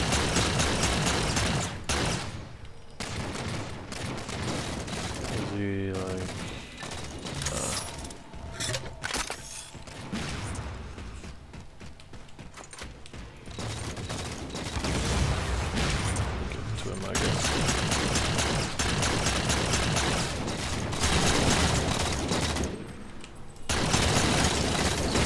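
Rapid futuristic weapon fire from the Halo 4 shooter game crackles in dense, loud bursts with brief pauses, mixed with mechanical clanks, booms and a player talking over the action.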